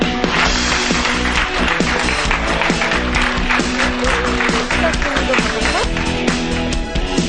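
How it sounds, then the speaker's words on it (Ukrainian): Sustained studio audience applause, loud and continuous for several seconds, with steady dense clapping from a large crowd. "Зустрічаємо справжніми оплесками в студії"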